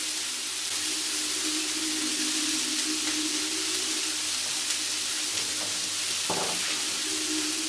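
Green chilies and red pepper sizzle steadily in hot oil alongside frying salmon in a pan over medium-low heat, a continuous close crackle with occasional stirring.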